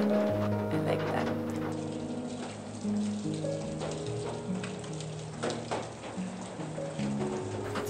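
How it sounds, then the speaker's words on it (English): Steady rain patters on the roof of a cabin, a continuous soft wash under a bed of sustained tonal music throughout. "I love the sound of the rain on the roof."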